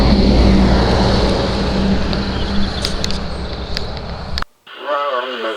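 A car's interior hums with steady, loud engine and road noise for several seconds before cutting off abruptly, after which a brief radio-like tone warbles faintly.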